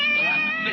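A cat gives one short, tonal meow, close and fairly clear, with no talking over it.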